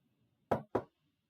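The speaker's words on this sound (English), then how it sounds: "Knock on wood." Two quick, crisp knocks on wood, close and fairly quiet, sounding alone in a still room.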